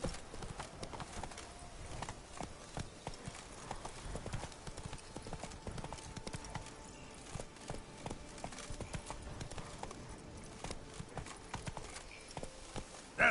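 Horse hooves gallop in The Witcher 3 video game, a continuous rapid clip-clop rhythm at moderate level with soft game ambience beneath, steady throughout with no speech.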